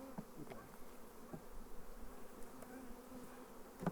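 Honey bees in a small nucleus hive hum in a low, continuous drone, with a few louder buzzes as individual bees pass close by.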